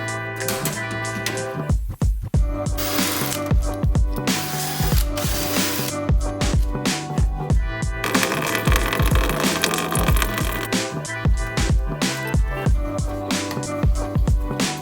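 A ratchet clicks quickly and steadily through repeated strokes while the original radiator comes out of a Toyota JZX100 drift build. Short pauses separate the strokes, and the ratcheting is loud, close and continuous over shop noise.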